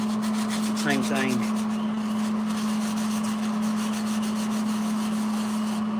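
Steel tubing for custom engine mounts on a 1961 F100 is rubbed down with a rag and wax and grease remover, a steady rhythmic wiping over a constant hum, with a brief spoken word near the start.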